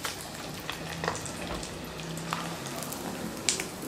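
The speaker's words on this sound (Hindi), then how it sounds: "अभी हम शिंगदाना को फ्राई करेंगे" Peanuts frying in oil over a low gas flame give a quiet, steady sizzle with occasional light pops and faint stirring sounds.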